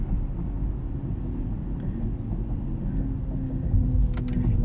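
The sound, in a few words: BMW iX xDrive50 electric car driving, slowing with regen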